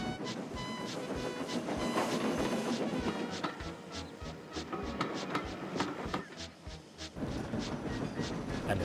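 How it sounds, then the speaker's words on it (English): A goods train hauls trucks along a main line with a loud, rhythmic clickety-clack of wheels over rail joints and rattling wagons, continuous and close. "James was pulling a goods train along the main line."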